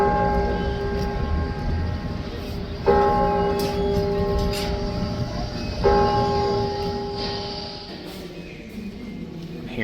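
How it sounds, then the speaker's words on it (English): The Philadelphia State House bell rings out in three deep struck tolls about three seconds apart, each a bright metallic clang that hums and fades slowly, heard at a distance over faint outdoor murmur. "Here's the State House bell."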